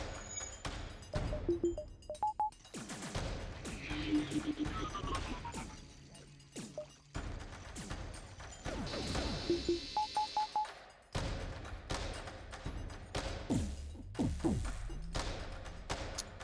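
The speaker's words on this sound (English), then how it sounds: "Three missiles hit, 3 ions hit." Missiles and ion shots striking a ship in the space game FTL: repeated crashing impacts and thuds mixed with electronic beeps and game music, loud and close.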